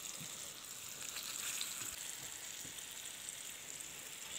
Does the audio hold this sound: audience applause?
no